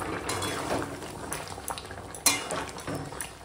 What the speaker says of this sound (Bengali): তো দেখো এখন মাংসটা ফুটছে একদম টকবক করে